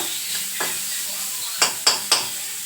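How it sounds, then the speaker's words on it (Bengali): Slices of bitter gourd frying in a pan give a steady close sizzle, with three sharp stirring scrapes toward the end. "এই যে উচ্ছে ভাজা বসিয়ে দিয়েছি দেখতেই পাচ্ছ তো এখানে হচ্ছে উচ্ছে ভাজা"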